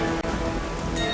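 Heavy rain driven by wind makes a dense, constant roaring hiss for a brief moment, loud and unbroken apart from one tiny dip.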